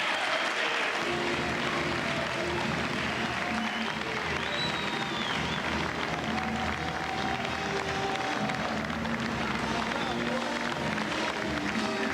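Award ceremony audience applauding and cheering at a college football awards show for the Biletnikoff Award, a steady wash of clapping and crowd noise with some voices mixed in throughout.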